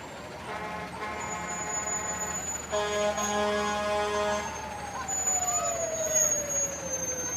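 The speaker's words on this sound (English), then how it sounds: "And the last fire truck, I believe, Manawa Rural, number 980." Manawa Rural fire truck number 980 rolls past in a Waupaca, Wisconsin Fourth of July parade, blasting horn tones before its siren winds down over rumbling engine noise and crowd murmur.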